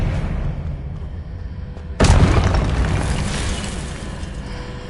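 In Hogwarts Legacy, a Confringo blasting spell sets off a sudden loud boom about two seconds in, followed by a long rumbling decay over the game's background ambience.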